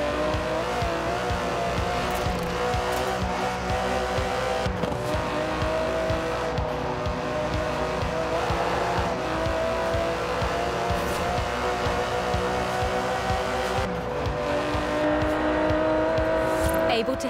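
Aston Martin DB11 with a 5.2-litre twin-turbo V12 racing in Forza Horizon 4, its engine revving and surging continuously with brief gear-change dips and hints of tire squeal, loud and close.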